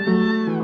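A single drawn-out, loud cat meow from a Roblox cartoon animation, close and clear, tailing off at the end.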